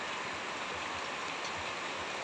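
Heavy rain pours steadily outdoors on a misty green hilltop, a dense, even hiss of falling water with no voices over it.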